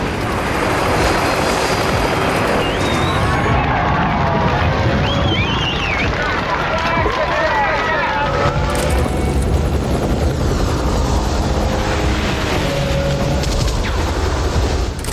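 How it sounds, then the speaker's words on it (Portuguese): Helicopter in a Terminator 2 chase sequence, a loud continuous rotor and engine roar mixed with booming impacts, gunfire-like bursts and a dense action-film soundtrack, with voices underneath. "a sequência de perseguição envolvendo o helicóptero também foi executada com efeitos práticos."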